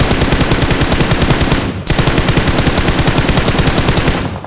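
Sustained rapid automatic gunfire from PUBG Mobile, loud and continuous with a brief break near the middle before the burst resumes and tails off at the end.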